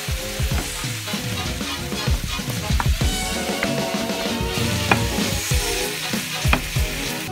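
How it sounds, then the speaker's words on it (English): Keto pasta is stirred with salt in a hot pan, giving a loud, close sizzle broken by irregular scraping and clinking from the stirring. "And then just mix this together."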